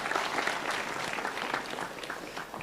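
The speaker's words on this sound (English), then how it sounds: "Let's clap hands for the Secure Squad." Audience applause at a cybersecurity tech hackathon, a dense steady wash of many hands clapping throughout the short stretch, fairly close and even in loudness with no voices standing out.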